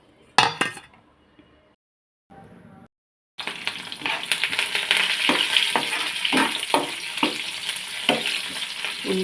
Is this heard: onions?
yes